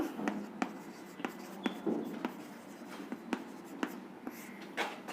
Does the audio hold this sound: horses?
no